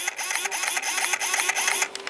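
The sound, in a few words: RC model boat motor throttling up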